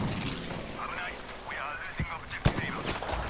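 Sniper rifle shots in the video game Battlefield: two sharp, brief reports roughly half a second apart, the second louder, heard under steady talking.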